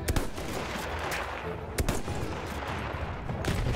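Gunfire in the Battlefield 1 video game on the Cape Helles battlefield, a dense run of cracking shots with a few sharper near reports cutting through a constant loud battle din, with no talking.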